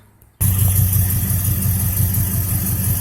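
Chevrolet Avalanche truck with a mild cam, OBX headers and Spintech 9000 mufflers, starting abruptly and then idling loud and close with a deep, slightly uneven loping rumble.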